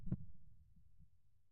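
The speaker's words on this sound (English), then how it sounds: "I don't like that heartbeat." A low heartbeat thump plays as a video game sound effect, one strong beat at the start followed by a faint, muffled low pulse that lingers quietly.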